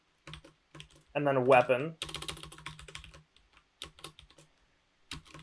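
Typing on a computer keyboard to enter a search query, with quick clusters of close, crisp key clicks between and under a man's speech.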